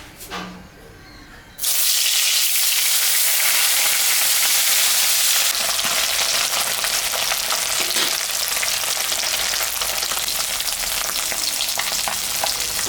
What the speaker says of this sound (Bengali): তেল গরম হয়ে গেছে। আমি এখন মাছটা ভাজবো।